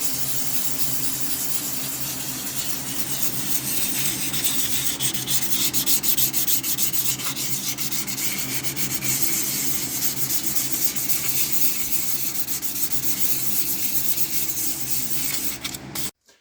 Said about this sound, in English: I have actually sanded that and successfully gotten down to pretty much the cast iron